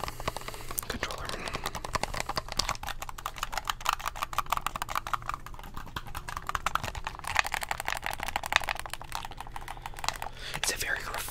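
Rapid plastic button clicks from an Xbox One controller, a dense run of sharp close-up taps and clatters repeating throughout, with faint breathy noise underneath.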